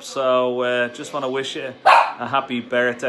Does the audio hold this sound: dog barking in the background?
yes